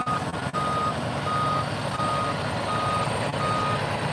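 Reversing beeps from a dump truck ring out steadily near the SpaceX Starbase main gate in Boca Chica, Texas, a regular repeating tone over constant truck engine rumble and outdoor noise.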